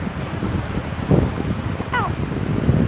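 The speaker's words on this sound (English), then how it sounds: "The sound of the water is nice in the morning." Ocean water and waves wash steadily at a beach in the morning, a soft continuous surf with breezy wind noise, while a voice murmurs faintly underneath and a brief chirp cuts through.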